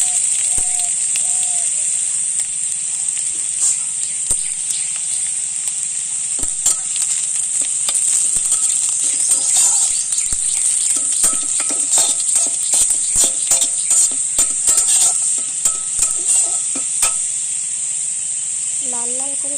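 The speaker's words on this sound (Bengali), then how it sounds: "লাল লাল করে পেঁয়াজটা ভেজে নিয়েছি।" Onions frying until reddish in a pan over a wood-fired clay stove, a loud continuous hiss and sizzle with a run of quick scraping stirs in the middle and brief speech at the start and end.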